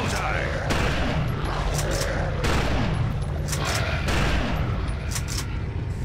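Gunfire in a video game, with loud repeated blasts and booms coming in bursts across the clip, layered over dense game noise and background voices.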